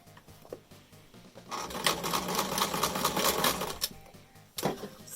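A sewing machine runs a steady burst of stitching along a 1/4 inch seam on a fabric face mask, fairly close, with quiet handling of the cloth before and after.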